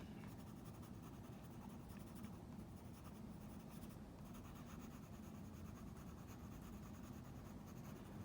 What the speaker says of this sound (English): Using the side of my pencil because my eyebrows are so dark